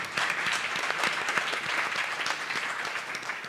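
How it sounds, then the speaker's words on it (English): An audience at a youth pre-conference session applauds the panelists. The clapping is dense and sustained for the full few seconds and holds an even loudness throughout. "a round of applause for our panelists"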